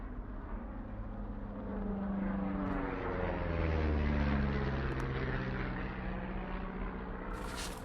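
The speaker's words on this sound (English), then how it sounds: "You see that plane?" A propeller airplane drones overhead, a steady low engine rumble that swells as it passes closest around the middle and then eases slightly, with no talking.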